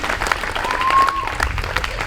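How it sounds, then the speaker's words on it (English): A crowd at a second annual Juneteenth celebration gives a brief burst of applause, with clapping mixed with a few voices. "give yourselves a round of applause"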